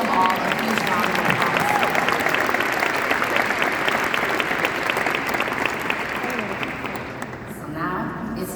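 Large crowd applause at a 25th anniversary celebration, a dense, loud, sustained roar of clapping with a few cheers that holds for most of eight seconds before thinning near the end as a voice returns.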